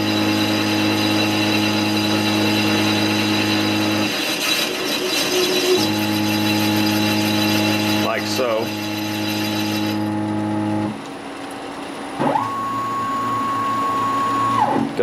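Grizzly G0602 lathe under Mach3 CNC control taking a light cutting pass, with a steady tonal motor hum and cutting noise that stops and restarts in sections, close and loud.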